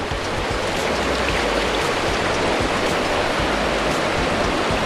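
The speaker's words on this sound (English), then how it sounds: "it looks like we have to go through the water because there's no other way" Stream water rushes steadily on a waterfall hike at Sungai Pisang, Malaysia, a dense, close splashing wash with uneven low sloshes from wading through it.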